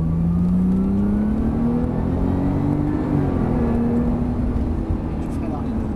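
A Porsche accelerates during a driving lesson, its engine note climbing steadily and then easing off in a loud, continuous drone heard from inside the car, with an instructor talking over it.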